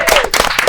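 Short burst of audience clapping on a podcast set, a brief dense patter of hands at close range with a hint of voices mixed in.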